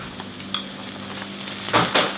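Ginger and garlic paste sizzles in a pan with fried onions for a chicken curry, a steady close frying crackle swelling into louder stirred sputters near the end.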